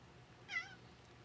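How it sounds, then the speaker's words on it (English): A single short, clear meow from a pet cat, alone over a faint low background hum. "Got my cat down here. He won't leave me alone."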